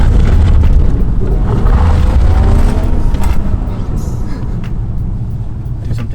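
Toyota GX81 with a valved exhaust, a loud, deep rumbling engine drone heard close up, strongest early and easing slightly toward the end.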